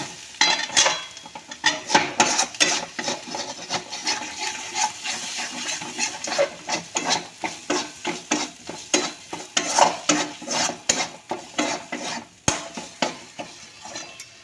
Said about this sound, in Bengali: ধনের গুঁড়ো এবার এইগুলোকে দিয়ে আমি আরেকটুখানি কষাবো